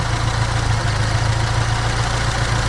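A car engine idles steadily while its idle speed is being lowered, a close, even low rumble with a constant throb and a slight dip partway through, with no voices.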